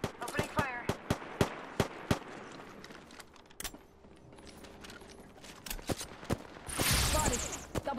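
Gunfire in a multiplayer video game shooter: a rapid series of sharp, loud shots spaced in a quick rhythm, a lull, then more bursts and a noisy clatter near the end.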